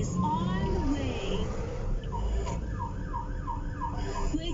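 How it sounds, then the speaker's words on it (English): An emergency vehicle siren wails in a repeating rising-and-falling pattern over steady road noise and passing traffic, loud and fairly close. "a siren reassures you that help is on the way"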